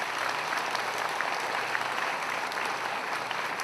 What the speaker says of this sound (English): give them a big round of applause as well